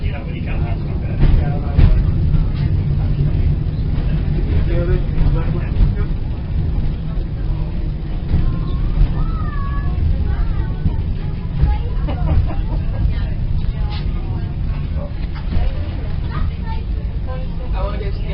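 Steady low rumble inside a moving train, with a constant drone beneath scattered voices and chatter of passengers nearby.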